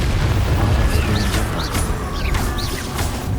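A Confringo fire spell bursts in Hogwarts Legacy, a loud, sustained blast of roaring rumble with crackling debris and whooshing swells that fills the whole moment without speech.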